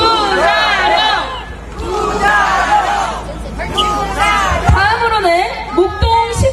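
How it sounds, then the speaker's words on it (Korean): Crowd at a political campaign rally outside a subway station in Seoul, loud massed voices shouting and cheering in rhythmic bursts, with chanting voices rising over the din. "우리 다같이 환호를 보내줍시다"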